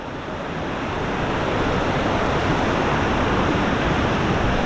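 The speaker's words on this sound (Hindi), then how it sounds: "ये हो गया भाई लांगवोको वाटरफॉल" Langvoku waterfall in Karbi Anglong, Assam, roars as a continuous broadband rush of falling water. The sound is close and loud and stays steady throughout with no speech.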